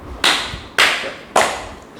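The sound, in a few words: hand clap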